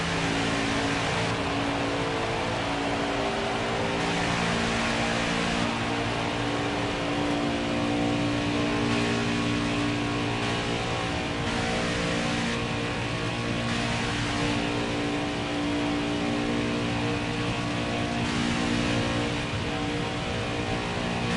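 NASCAR Craftsman Truck Series race trucks at full speed at Talladega Superspeedway, a steady loud engine roar with layered harmonic drone and passing surges, no talk.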